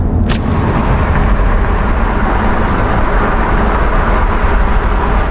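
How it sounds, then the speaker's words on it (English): Steady broadband wind rush and road roar inside an FL5 Honda Civic Type R at speed with the windows down, loud and continuous throughout with no pauses. "there's like some wind noise I feel like that passes through here that you didn't get on the FK8"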